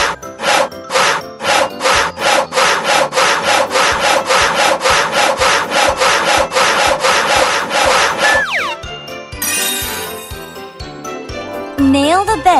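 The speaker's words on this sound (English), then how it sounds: "Start sawing." Wood is sawn for a bed in a children's carpentry game, with a long run of rapid, evenly spaced back-and-forth saw strokes, followed by chiming jingles and sparkly game effects.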